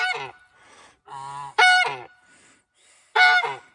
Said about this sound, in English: That goose says no.